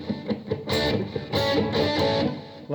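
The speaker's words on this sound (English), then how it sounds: "at the end of it, there's a little bridge part which goes something like this." Distorted electric guitar plays the bridge section of a song, with short plucked notes building into loud, sustained distorted chord bursts, alone with no voices.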